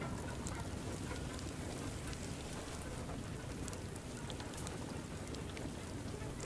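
Dense, relentless pelting of heavy hail hammering down without pause in the video game Far Lone Sails, loud and close, filling the whole stretch with no voices.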